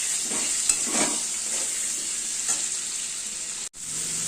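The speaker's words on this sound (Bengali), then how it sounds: "সবজিগুলো একটু ভাজা ভাজা করতে হবে" Cut potato, pointed gourd, pumpkin and eggplant sizzle steadily in a frying pan, close and even, with a few soft stirring scrapes and a brief dropout near the end, and no voices.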